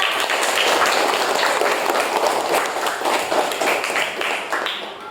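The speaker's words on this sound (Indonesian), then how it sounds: "Beri tepuk tangan untuk kita semua." A classroom of children claps together during a lesson on ecosystems, producing a busy, continuous patter of many hands that stays fairly loud and fades slightly toward the end.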